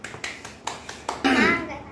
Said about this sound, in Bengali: হাততালি দাও, হাততালি দাও সবাই